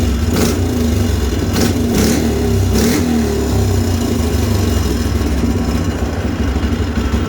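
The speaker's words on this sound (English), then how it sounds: "The idle's set a little bit high right now." A Polaris Sportsman 500 ATV engine running at a slightly high idle, with a loud, close, steady mechanical drone. A few brief surges rise in the first few seconds before it settles into an even hum.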